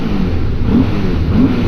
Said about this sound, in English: This bike sounds so good going through this tunnel